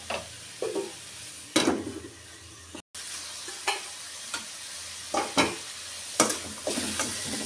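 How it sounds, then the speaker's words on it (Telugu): Spinach frying in oil while being stirred, a steady soft sizzle broken by sharp, repeated scrapes of a spatula against the pan at irregular intervals, close and without voices. "బాగా ఇలా ఆయిల్లోనే వేయించుకున్నాం కదా,"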